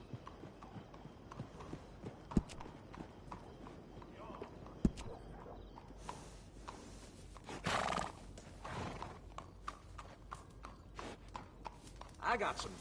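Horses at a horse trader in the video game Red Dead Redemption 2, with steady clip-clop of hooves throughout and a loud whinny partway, plus a later snort, while a voice talks over part of it.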